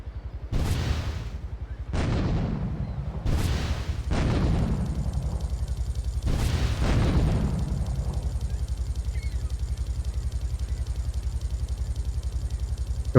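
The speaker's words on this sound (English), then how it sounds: "3 shots with the rocket launcher destroys the helicopter." Three booming rocket-launcher explosions hit a helicopter in Grand Theft Auto III, spaced a couple of seconds apart, then a heavier blast follows and a steady engine-like drone continues alone afterward.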